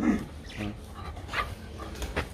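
An Alabay dog gives several short barks and yelps in an uneven rhythm, moderately close, mixed with faint background noise and some voices.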